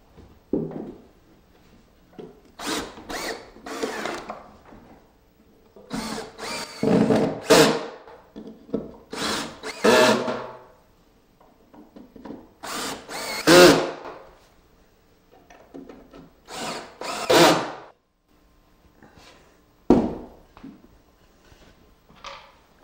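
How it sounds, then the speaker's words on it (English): A drill drives pocket screws into an intermediate support for a bookcase's bottom shelf in a trim-carpentry pocket-hole setup. It runs in several short, close bursts of a second or so, with quiet pauses between them. "screwing in this intermediate support for the bottom shelf."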